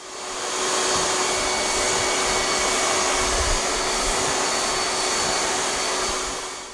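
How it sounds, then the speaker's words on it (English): A vacuum cleaner runs steadily while vacuuming sanded drywall dust off a freshly skim-coated wall, a loud constant whine and rushing airflow that rises at the start and trails off at the end. "So we'll go ahead and vacuum this."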